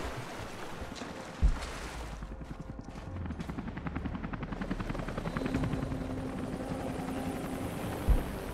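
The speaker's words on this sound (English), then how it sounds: "Watch as helicopters flying towards the destination." Helicopter flying toward a destination in the PC game Rise of the Tomb Raider, a continuous rotor drone with rapid chopping pulses and a couple of sharp thumps, with no voices over it.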